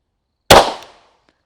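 A single sharp handgun shot fired during a shooting drill, loud and close, with a short decaying tail and no talking around it.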